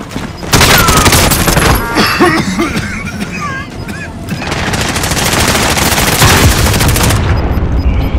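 Machine gun fire in a Warzone battle royale match, rapid bursts of shots over dense, loud game noise, with voices talking over the action.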